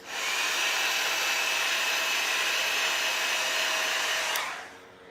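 Hair dryer blowing steadily on a paper craft project, a close, continuous airy whine that holds for several seconds and then switches off and winds down.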